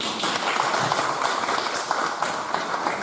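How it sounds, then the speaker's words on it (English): A meetup crowd in Shenzhen gives a round of applause to welcome a speaker, steady dense clapping with a few sharper claps standing out. "let's give a round of applause and to Sandy and welcome to Shenzhen"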